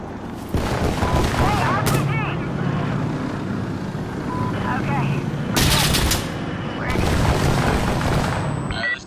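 Bursts of M16A4 rifle fire in a video game, loud and close, rattle in repeated volleys over constant in-game noise, while players talk over the shooting.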